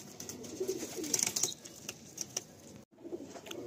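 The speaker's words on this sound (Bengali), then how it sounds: "প্রচণ্ড ছটফটে পায়রা, এদের জেনারেশনটাই এরকম।" Madrasi pigeons cooing and fluttering in a loft, soft repeated coos with faint bird calls and brief wing rustles, moderately close, with no talk.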